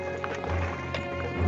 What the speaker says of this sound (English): Men on horses.